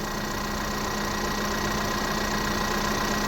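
A Ford Edge engine idles steadily at close range during an A/C recharge, a constant low hum with faint knocking texture, unchanging throughout and with no voices.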